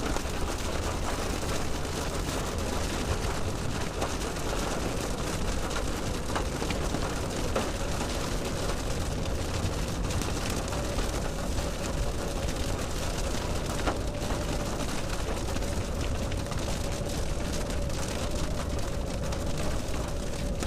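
Hail from the core of a strong evening storm pounding down, a dense, loud, unbroken roar of impacts with scattered sharper hits, continuous and close, with no voices.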